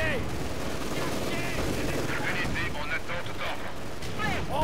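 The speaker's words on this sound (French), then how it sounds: "Un groupe d'ennemi nous tire dessus." Enemy gunfire from the video game Company of Heroes 2 in the battle of Stalingrad, with steady crackling rifle and machine-gun bursts over a constant battlefield roar, plus game voices and whistling sounds mixed in.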